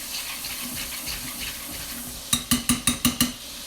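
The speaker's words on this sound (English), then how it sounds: "go ahead and add your vinegar and shake your pan fast to pick everything up" A frying pan holding golden garlic and freshly added vinegar is shaken quickly, giving six rapid metallic clatters after a soft background sizzle, close and distinct with no speech.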